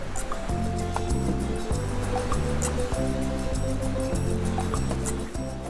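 Steady surf washing onto an island shore in the Polillo Group, Philippines, a continuous broadband rush with a low rhythmic throb underneath, fairly close and loud, no talking.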